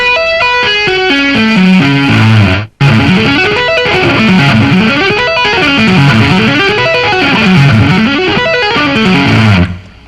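Distorted electric guitar plays rock arpeggios at a slow tempo, loud and close, with a clean rising run, a brief cut, then repeated up-and-down sweeping patterns ending with a fade. No voices.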